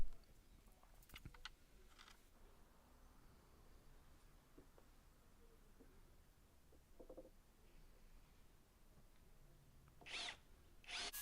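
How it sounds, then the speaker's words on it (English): Screws driven with a power drill down through a scrap-wood workbench top into its frame, heard as short, loud whirring bursts near the end after quieter scattered taps and handling noise. "And I drove a couple of screws down through into the top as well."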